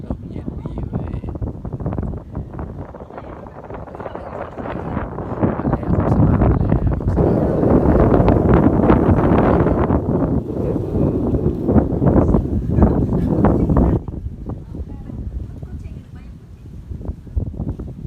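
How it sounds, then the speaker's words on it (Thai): Cold wind gusts across an open rooftop in a steady, loud rush that swells in the middle and eases toward the end, with someone speaking over it at times. "ลมเย็นดีเว้ย"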